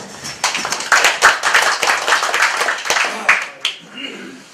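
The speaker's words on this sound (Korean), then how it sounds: "자, 박수로." Audience clapping at an indoor talk for elderly attendees as a speaker is introduced: dense, steady clapping from a sizeable group, loud for about three seconds, then thinning and fading out.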